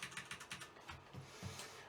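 Left and right arrow keys pressed on a computer keyboard: a quick run of soft, close clicks in an irregular rhythm, faint and alone.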